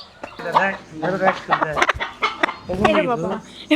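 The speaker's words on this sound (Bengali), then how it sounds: "মুরগির সাউন্ড শোনা যাচ্ছে অনেক বড় মুরগি" A large hen clucks repeatedly nearby in short, choppy bursts, fairly loud and close.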